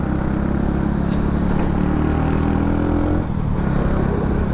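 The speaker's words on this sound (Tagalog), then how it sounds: "XRM pa naman yung motor niya," A Honda XRM-type small motorcycle engine droning steadily while riding through city traffic in the Philippines, a constant close, loud hum with passing vehicle noise and no talk.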